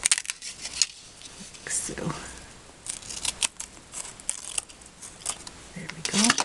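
Scissors snip through paper card in short, crisp cuts close by, mixed with paper rustles while someone speaks briefly.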